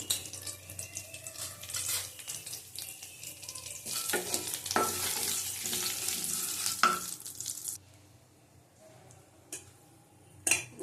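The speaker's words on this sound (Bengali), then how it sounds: "দুটো তেজপাতা দিলাম, জিরে ফোড়ন দিলাম" Bay leaves and cumin seeds sizzle in hot oil for a curry, a steady bright crackle with occasional stirring clicks before the frying drops away and a few quieter taps remain.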